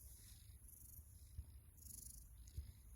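A Persian cat purring softly and close by, a low rumbling buzz with faint rhythmic pulses, quiet and alone against a hushed room.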